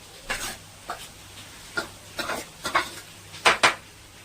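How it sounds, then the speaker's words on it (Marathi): Rice flour and jaggery dough being mixed in a vessel, heard as a series of short, irregular scraping and rubbing bursts, close and moderately loud, with no talking. "हे पूर्ण असं मिक्स करून घ्यायचं आहे"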